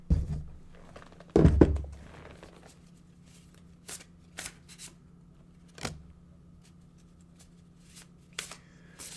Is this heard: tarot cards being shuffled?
yes